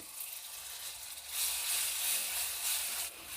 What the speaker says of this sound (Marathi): आपल्याला हे सगळे मसाले तेलात चांगले फ्राय करून घ्यायचे आहेत